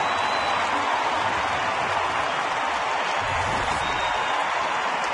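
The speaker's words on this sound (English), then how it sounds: "Well, that gets a crowd on its feet right here." A large baseball crowd at Target Field roars steadily for a home run, a dense, loud sustained cheer with applause and no pauses.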